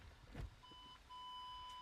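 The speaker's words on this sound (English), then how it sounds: "as you can hear, it's got the audible beep" A campervan's reversing parking sensor gives a thin, high electronic beep that starts after a brief thump and then sounds as a steady continuous tone, faint and close.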